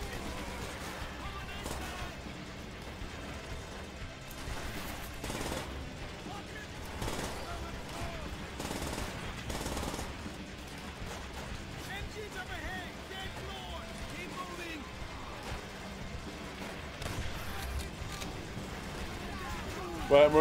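Gunfire in the World War II shooter World at War crackles in scattered bursts amid battlefield rumble and clatter, moderately loud and continuous, with no speech.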